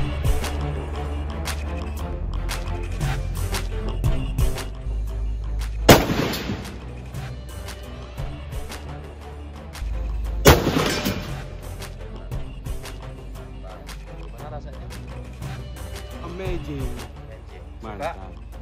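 At a shooting range, a 9 mm pistol and a revolver fire two sharp, loud shots about four seconds apart, while people talk steadily throughout.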